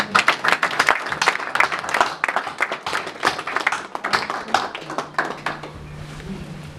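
A church congregation applauds during a prophetic worship service, a dense, loud patter of many hands clapping with uneven bursts, thinning toward the end as a low steady tone rises beneath it.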